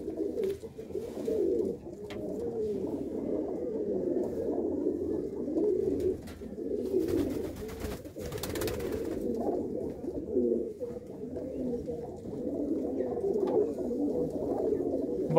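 A flock of large pigeons, males and females, coos steadily in a loft in Gurdaspur, a dense, continuous layer of overlapping throaty calls close by, with a few brief rustles or flaps and no talking.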